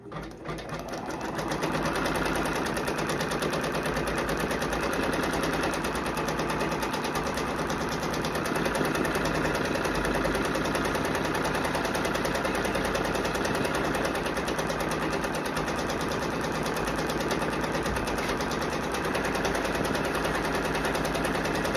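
An embroidery machine stitches an appliqué design onto a hoodie, a loud, dense, rapid mechanical chatter that starts after a brief moment and runs steadily and unbroken to the end.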